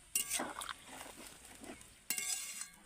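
A spoon scrapes and stirs through koi fish curry simmering with slit green chilies in a pan. The soft, faint strokes and light clinks come in short irregular bursts.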